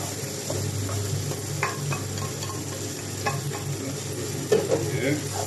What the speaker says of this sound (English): And make sure to constantly mix this while you add the egg.